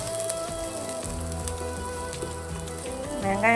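Onions sautéing in a pan, a steady close sizzle with dense crackle and spatter that holds at one level for the whole stretch and swells slightly at the end, with no voices.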